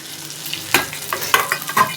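Oil sizzles steadily around mackerel (bangda) pieces frying crisp in a pan, with a few sharp clatters and scrapes as the fish is moved, close and fairly loud with no talking.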